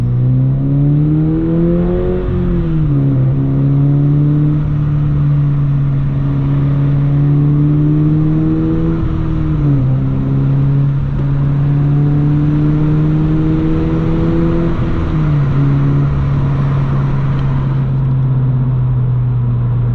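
A 2022 Subaru BRZ fitted with a catback exhaust passes nearby: a loud, steady engine drone that rises and dips in pitch as the car revs and shifts, with no talking.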